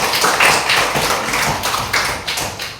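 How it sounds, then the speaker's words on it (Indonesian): Children in a classroom clap for a classmate, a loud, close, dense run of hand claps that keeps going for a few seconds with slight swells and no talking. "Ya, tepuk tangan untuk Setiawan."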